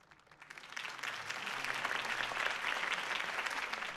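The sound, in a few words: crowd applause in Batman Telltale Series video game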